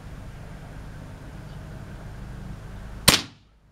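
A single sharp crack from a Shark CO2 air rifle firing a pellet, standing out against steady background noise and leaving a quick fading tail.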